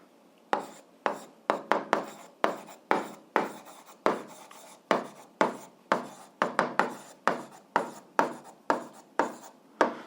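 Pen strokes writing an algebra answer on paper, a close series of quick scratchy bursts in an uneven rhythm, separated by short silences.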